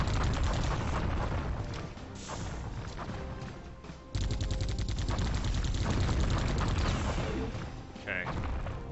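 Rapid video-game gunfire rattles steadily through the whole stretch as an enemy is shot in the back, the dense bursts barely letting up, with a brief dip near the middle before resuming loudly.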